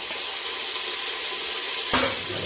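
Soaked, cut brinjal pieces go into a hot pan and fry, a steady broadband sizzle with a brief louder splash of hissing as they land, close up and without speech.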